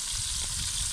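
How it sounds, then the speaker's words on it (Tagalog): Food sizzles and fries in a pan at an outdoor cooking spot, a dense steady crackle held close and loud throughout. "Ayan, yung ating prito."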